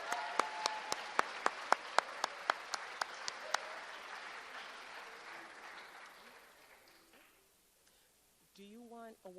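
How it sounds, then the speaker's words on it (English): Audience at a college senior student-athlete awards ceremony applauding, with a few sharp distinct claps over steady clapping that gradually dies away, followed by a voice speaking. "Another round of applause."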